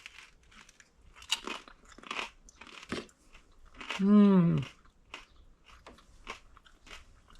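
Bites into a crunchy air-fried mini taco, with sharp close crunches and chewing interspersed with talking, and a short tonal vocal sound in the middle.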